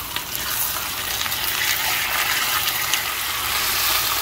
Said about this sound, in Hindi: चिकन को प्याज और लहसुन अदरक के साथ अच्छी तरह से फ्राई हो रहा है